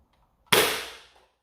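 A single sharp shot from a Dart Zone Pro MK 2.1 foam dart blaster, a sudden loud crack with a short decaying tail, alone in a quiet room.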